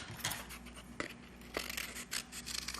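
Scissors snipping through a traced cardboard circle cut from a recycled lid, a few short crisp cuts and scrapes at close range, fairly quiet with no talking.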